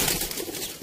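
Pigeons coo close by in a brief, low, soft murmur under a hissy background, with no talk.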